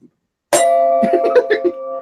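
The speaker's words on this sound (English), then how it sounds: "I'm going to ring the big bell." A large bell is struck once and rings with a bright, sustained metallic tone, while softer knocks and a muffled vocal sound overlap its fading hum.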